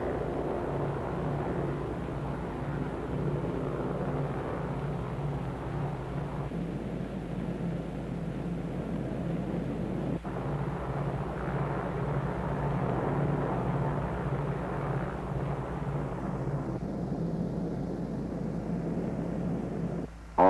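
Bomber aircraft Dave's Dream flies with its escort of photographic, weather and instrument planes toward the Bikini target, a steady droning engine roar that holds continuous and fairly loud throughout with no voices.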